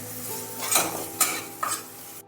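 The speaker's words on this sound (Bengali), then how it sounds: "একটু নেড়ে নিচ্ছি মশলা।" Turmeric and red chilli powder frying and being stirred in a pan, a continuous close sizzle with three sharp scrapes of a spatula against the metal and no talking.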